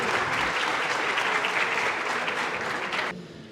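High school students at a career day event applaud a mayor onto the stage, a dense, loud wash of clapping from a large crowd that holds steady, then drops off abruptly near the end.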